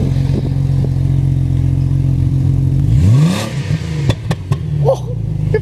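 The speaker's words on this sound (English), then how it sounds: "Now we want to rev it" JDM car engine idling low and steady, then revved hard in a rising sweep that drops away, followed by a few sharp pops and crackles close by.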